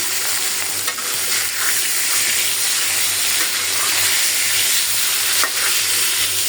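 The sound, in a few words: vegetable stalks lightly frying in a pan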